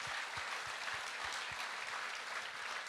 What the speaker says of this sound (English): we should give him a big round of applause.